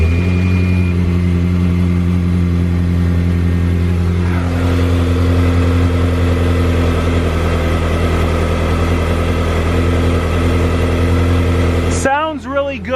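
A salvage Ferrari engine that nearly caught fire earlier idles steadily after being restarted. It gives a loud, even drone with strong low harmonics, and a short rising rev comes near the end.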